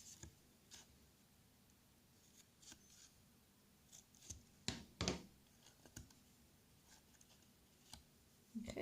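Scissors trim a small paper piece for a Santa's train papercraft, giving faint scattered snips and clicks up close in a quiet room.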